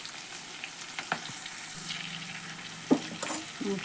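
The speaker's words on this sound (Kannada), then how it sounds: "ಎಣ್ಣೆ ಒಳಗೆ ಫ್ರೈ ಮಾಡೋಣ ಇದನ್ನು" Shredded cabbage fries in oil in a pan for a vegetable palya, giving a faint, steady sizzle broken by a few soft clinks and stirring scrapes.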